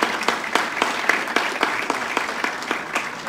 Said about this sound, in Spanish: Un aplauso para el arzobispo